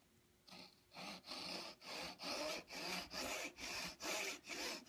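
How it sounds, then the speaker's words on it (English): A hand saw cuts a 45-degree miter through cherry hardwood molding in about nine even, rhythmic back-and-forth strokes, each a close, rasping burst with brief pauses between. "Cutting hardwood, just take your time, let the saw do the work."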